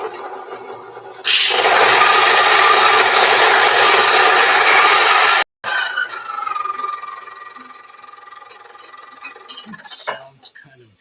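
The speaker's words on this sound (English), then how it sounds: "We'll make 24 straight up and put that into a grinder." Coffee beans are ground in a coffee grinder, a loud continuous whirring burr for about four seconds that stops abruptly, followed by rattling and clinking as the grounds are handled.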